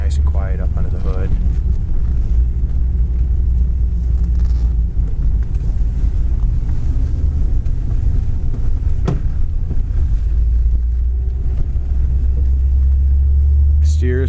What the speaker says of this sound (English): Car really idles nicely, runs smooth.